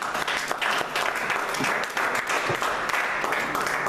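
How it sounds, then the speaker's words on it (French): A church congregation claps together in a lively, rhythmic burst that carries on steadily, with a few voices calling out faintly beneath the applause. "Acclamons pour la parole de Dieu."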